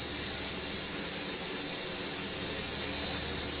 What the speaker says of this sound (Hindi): इस वक्त जो आप तस्वीरों में देख रहे हो वो मिग 29 के है और सॉटीज लगातार लगा रहा है